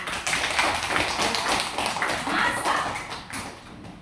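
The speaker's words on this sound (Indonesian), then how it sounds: "tepuk tangan" A classroom of students clapping hands, a dense run of quick overlapping claps heard close and steady before easing off toward the end.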